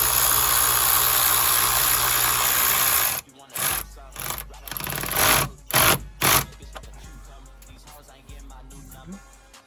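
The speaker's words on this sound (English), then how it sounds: "So I just finished putting in the self-tapping screws." A power tool whirs loudly driving self-tapping screws into a carbon fiber front lip on a BMW M4 F80/F82/F83, a continuous buzz that cuts off into short bursts of drilling and quieter working noise.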